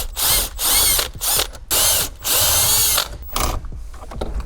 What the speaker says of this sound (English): let's remove these 8mm bolts and screws